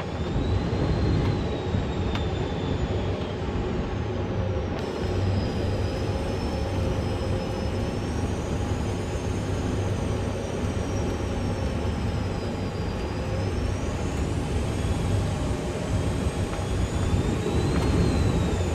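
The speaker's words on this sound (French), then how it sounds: "Voici la vidéo de l'approche vue du cockpit que j'ai filmée depuis le jump seat" Inside an airliner cockpit on approach to London City airport, a steady loud roar of engine and airflow noise fills the whole stretch, with a faint shifting high whine over it and no talk.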